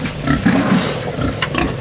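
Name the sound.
pig on a farm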